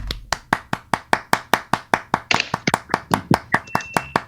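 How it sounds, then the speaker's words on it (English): A single person claps hands in a steady, even rhythm, about four crisp claps per second, close and distinct, with a faint whistle-like tone near the end and no speech, a brief round of applause offered to essential workers. "I really think that they deserve a round of applause"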